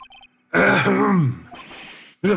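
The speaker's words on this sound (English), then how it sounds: "Maybe I should clear my throat." A drawn-out, groaning throat clearing up close, followed by a brief breathy rasp, with short game tones at the start, from Phoenix Wright: Ace Attorney.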